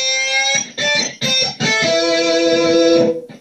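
Distorted electric guitar plays the solo line from a song, a few short bent phrases followed by a long sustained held note, loud and alone with no talking.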